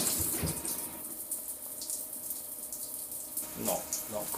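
Water runs from a tap in an apartment bathroom with poor water pressure, a steady hissing splash that swells louder at the start and end, with faint talk nearby.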